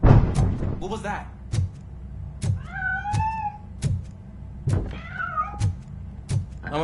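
A cat in Robocop: Rogue City gives two clear rising meows amid repeated heavy thuds and clanks, close and distinct.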